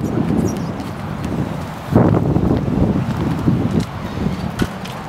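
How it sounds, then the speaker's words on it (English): Strong outdoor wind from the south-southwest buffets the microphone in loud, uneven gusts with heavy low rumble, around the rigging of an amphibious trike, and no talking. "Now I see my wind direction is blowing straight out of the south."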